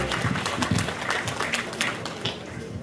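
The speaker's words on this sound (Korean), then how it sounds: "박수로 유준상 상임 고문을 맞이해 주십시오." Applause from a seated audience welcomes a guest speaker at a book launch for a Korean politician, a steady wash of clapping held at an even level for the whole stretch.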